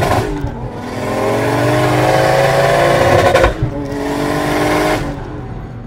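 A 1JZ-swapped 500 hp Lexus IS300 revs hard up close, the engine note climbing steadily to a loud sustained peak, dropping sharply, then surging again before cutting off.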